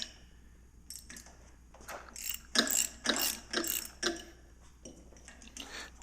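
A hand ratchet loosens 9/16 bolts on a Farmall Super H tractor. Quiet, close clicking comes in several short bursts of rapid pawl ticks, separated by brief pauses.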